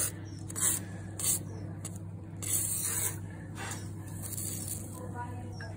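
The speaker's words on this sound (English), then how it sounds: "put them in this tin here and spray them with WD-40" WD-40 sprayed from a can onto rusty pliers sitting in a tin, heard as several short hissing bursts close by over a steady low hum.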